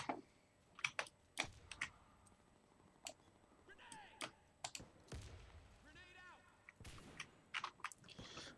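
A Thompson M1928 submachine gun fires in the Warface online shooter, sounding as scattered sharp reports and short bursts amid game effects, fairly quiet, with someone talking at times.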